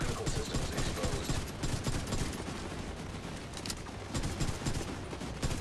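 Dense, rapid automatic gunfire from a raid in the shooter game The Division 2 rattles continuously in overlapping bursts, with scattered louder cracks and mechanical clatter in the mix.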